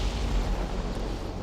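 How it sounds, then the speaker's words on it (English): A power bomb explosion in the video game Metroid Prime 4: a dense, loud, sustained roar of broadband noise with heavy low-end rumble, holding steady throughout. "Yep, that's power bombs."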